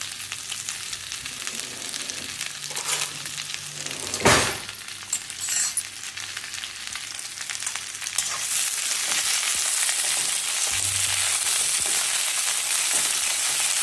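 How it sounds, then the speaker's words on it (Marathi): Okra sizzles steadily in hot oil in a pan, a constant frying hiss with occasional sharper clinks and scrapes of stirring, the sizzle swelling louder toward the end. "आणि ह्याच्यात ह्या भेंड्या भाजून घ्यायच्या."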